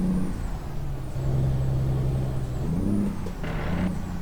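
A truck in American Truck Simulator downshifts by floating gears, its steady engine drone shifting pitch as the revs change, with a brief hiss of air near the end.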